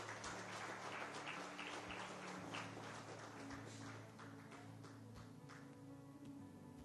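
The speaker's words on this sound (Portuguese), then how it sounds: "aplauda ao Senhor em nome de Jesus" A church congregation applauds at the close of a Sunday morning service, a soft, steady wash of many hands clapping at a distance over a low sustained hum, easing slightly in the last few seconds.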